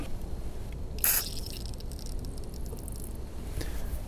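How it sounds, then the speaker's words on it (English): A brief hiss from a spray can of Berryman's treatment into an engine's spark plug holes, one short burst followed later by a fainter puff, over low background rumble. "I'm just going to give it a little spray"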